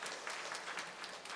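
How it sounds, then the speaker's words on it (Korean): Church congregation applause during a Korean Parents' Day Sunday worship service, a brief, soft patter of many hands clapping at a distance, quiet and steady throughout. "우리가 박수로 여러분들 격려합니다"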